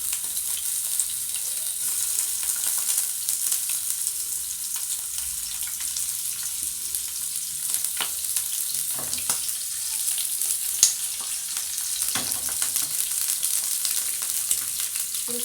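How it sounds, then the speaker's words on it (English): Chicken gizzards fry in a hot pan with a continuous, even sizzle and hiss that runs throughout, with a few faint scrapes and clinks of stirring, close up and with no talking. "We'll fry them until golden brown."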